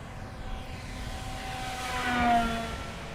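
E-flite Twin Otter 1.2 m RC model plane at full power making a fast pass over a ridge, steady electric motor whine swelling as it nears and then easing away.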